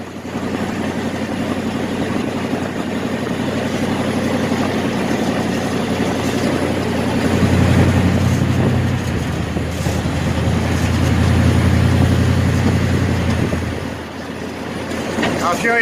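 A 1967 Chevelle's 396 engine runs with a deep, steady low rumble, swelling louder twice as it is revved, close and continuous throughout.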